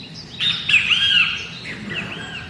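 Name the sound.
birds chirping in the wind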